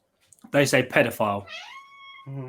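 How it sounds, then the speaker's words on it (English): A house cat gives a single drawn-out meow with a rising, then steady tone, heard close and fairly loud between bursts of conversation as people talk over and around it. "Is that the cat? That is the cat."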